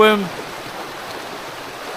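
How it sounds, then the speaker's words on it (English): A fast-flowing, shallow river at a campsite in Wales gives a steady, even rush of water. A brief tonal sound cuts off at the very start, and then the flow continues alone. "The river's fairly fast flowing at the moment, but it's quite shallow actually"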